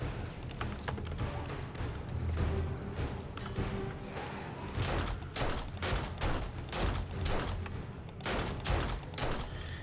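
Rapid pistol shots from hip fire in the zombie survival game 7 Days to Die, a dense fusillade of sharp cracks, loudest and most tightly spaced in the second half, over a constant rumbling game backdrop.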